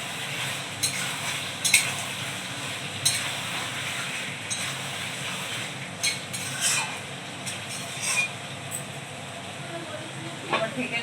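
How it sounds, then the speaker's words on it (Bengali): Mutton is braised and stirred in a pan for a spicy curry, giving a steady, low sizzle with soft scraping strokes and occasional clinks. The sound stays moderately close and fairly quiet throughout, with no talk over it. "এই দেখুন মাংসটা কষা হচ্ছে, এখনো হয়নি"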